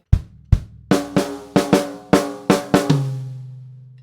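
Drum kit rhythm with two kicks, then snare hits and a high tom, about nine sharp strikes in a quick groove, close and dry, ending on a ringing tom note.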